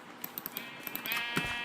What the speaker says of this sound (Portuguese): Mais ovelhas.